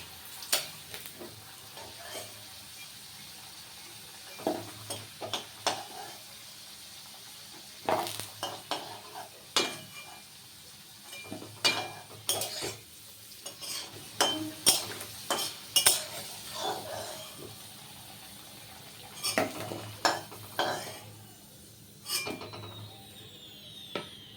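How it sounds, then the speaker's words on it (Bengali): Potato pieces frying in a pan for a pangas fish kalia, a low sizzle broken by repeated spatula scrapes and metallic clinks against the pan, close-up and irregular with no voices. "আমি আলুটা আগে ভেজে নিচ্ছি"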